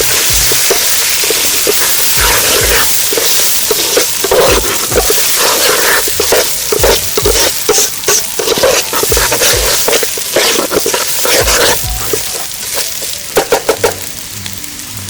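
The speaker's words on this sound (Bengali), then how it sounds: "আর কিশমিশ, ম্যারিনেশন করা চালটা দিয়ে দেবো এর মধ্যে।" Marinated rice and raisins tipped into a hot pot for basanti pulao, a loud continuous sizzle broken by repeated scraping, crunching stir strokes, fading near the end.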